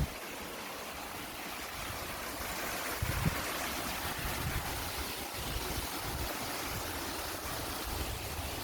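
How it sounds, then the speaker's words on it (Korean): A stream of flowing water along a walking trail near an arboretum, a steady broad rush that continues throughout with no voices. "물소리"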